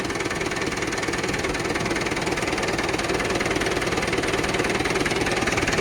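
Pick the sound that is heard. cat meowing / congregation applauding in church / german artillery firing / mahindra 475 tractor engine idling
mahindra 475 tractor engine idling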